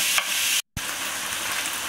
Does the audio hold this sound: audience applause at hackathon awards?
no